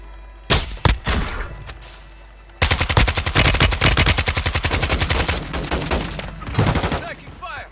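Call of Duty MW 2.0 gunfight: a few loud isolated shots, then a long close burst of rapid automatic fire with scattered cracks and impacts, while a voice speaks briefly underneath.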